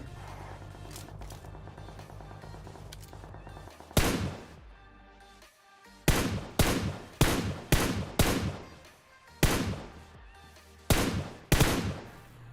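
Weapon fire in a battle royale video game: a series of loud, sharp tap-fired gunshots in short bursts, spaced across several seconds over a low steady background.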